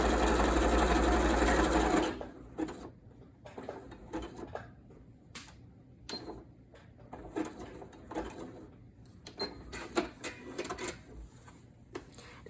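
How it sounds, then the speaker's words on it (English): A sewing machine running a slow zigzag basting stitch on fabric, first a steady loud whir for about two seconds, then rapid irregular clattering stitches with brief pauses, close and continuous throughout. "And we're just going to do a basting stitch, which is going to be a zigzag stitch."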